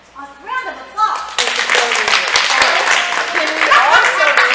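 A room of caregivers at a mental health retreat breaks into a round of applause after some opening talk, the clapping swelling quickly into loud, dense, sustained hand claps with voices mixed in.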